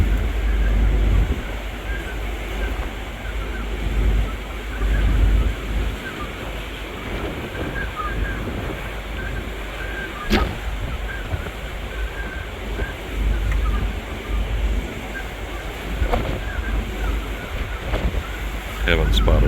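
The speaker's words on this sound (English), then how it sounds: "The wind is picked up quite a bit from last night and earlier in the morning" Wind and sea on the deck of a cruise ship in Norway approaching Bergen among small islands, a steady broad rush of wind and surf with low rumble, loud and continuous with a few brief knocks.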